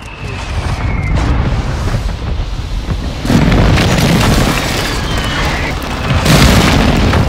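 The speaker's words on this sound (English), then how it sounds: "Requesting fire mission! Target marked! Copy your mark. Mortar strike inbound." Mortar strike explosions in Call of Duty: Modern Warfare II, deep booming blasts with rumbling debris. A heavy impact lands around the middle and another near the end, over continuous battlefield noise and game voices.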